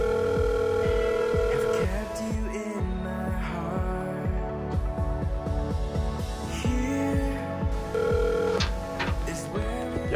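A telephone rings in a repeating ringtone pattern of bright tones, clear and close, with a musical backing running alongside it and no talking.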